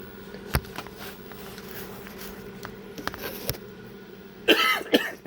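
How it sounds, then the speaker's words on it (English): A person coughs a couple of times near the end, short close bursts after a stretch of quiet room noise and faint scattered taps. "now I start coughing"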